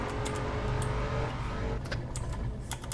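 A Mustang car engine in a video game hums with a steady low rumble, while light clicking like keyboard taps sounds over it.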